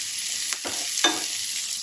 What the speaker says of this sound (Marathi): आणि याला छान गुलाबी रंग येईपर्यंत आपल्याला कांदा भाजून घ्यायचा आहे